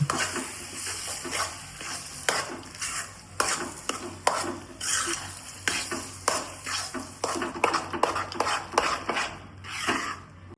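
Potato stuffing stirred into a masala dosa filling in a pan, repeated scraping strokes of a spoon against metal with a light sizzle underneath, steady and close throughout with no talk.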